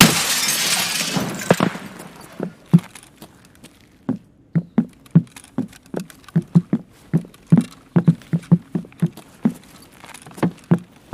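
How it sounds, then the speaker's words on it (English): A window in Escape from Tarkov is shot out, giving a loud burst of shattering glass, then a long scatter of sharp, separate tinkles and clinks as shards drop and bounce, clear with no talk over them. "Shooting window"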